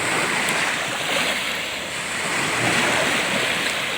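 Sea waves surge and crash steadily along a shore near a seaside Shiva lingam shrine, a broad continuous wash of surf with wind noise, no talking.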